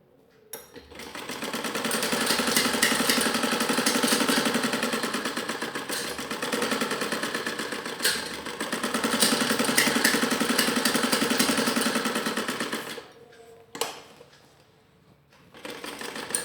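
A foot-pedal sewing machine stitches a salwar in long, steady bursts of rapid mechanical chatter that swell and ease, then halt near the end, followed by brief clicks and rustles.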